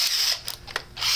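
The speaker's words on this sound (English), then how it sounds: "now that I drilled a pilot hole, I can start it in" A drill bores a pilot hole, short whirring high-pitched bursts that stop and restart a few times, close and fairly loud with no talk.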